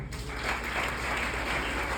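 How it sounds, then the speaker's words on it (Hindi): Audience at an AWPL seminar applauds new members, a dense, steady wash of clapping from a crowd filling the whole two seconds at even loudness. "एक बार नए साथी के लिए जोरदार तालियां।"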